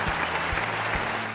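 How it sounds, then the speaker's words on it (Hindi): Steady applause from an audience at a riddle show, an unbroken wash of clapping that holds at even loudness for its short length with no voices over it. "तो अपने लिए तालियां।"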